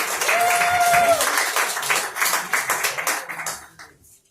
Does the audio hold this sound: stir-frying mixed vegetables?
no